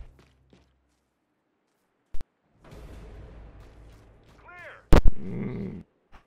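Gunfire in Gears 5 during a Master difficulty Horde Frenzy match on the Reclaimed map: one sharp shot, then a dense burst of combat noise and a second loud blast, with quiet gaps between.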